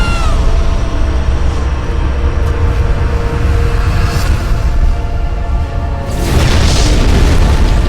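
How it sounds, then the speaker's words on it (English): A loud, deep explosion from the Tomb Raider Legend game booms and rumbles throughout, then swells again into a heavier burst of noise near the end, with no talking over it. "It'll explode unless you pull out the sword!"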